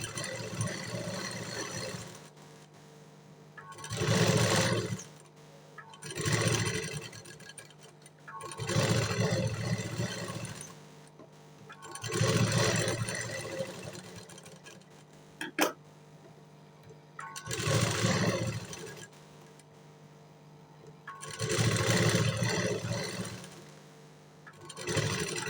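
A sewing machine stitches around a blouse back neck, running in about seven bursts of one to three seconds each, separated by short pauses.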